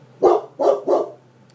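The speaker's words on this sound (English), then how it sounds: "Sorry, that's my dog." A pet dog barks three times in quick succession indoors, loud and close, with a low steady hum underneath and no talking.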